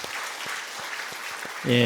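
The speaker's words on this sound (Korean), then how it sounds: "우리가 사랑하고 축복의 마음을 다가 힘차게 우리 아이들을 위해서 박수를 한번." Church congregation clapping for the children on Children's Sunday, a steady wash of many hands that swells near the end as a voice begins speaking over it.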